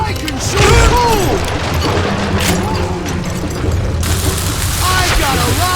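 In the Western shooter game Call of Juarez Gunslinger, dynamite goes off with deep booming blasts amid a busy mix of gunfire and clatter, while voices shout over the action.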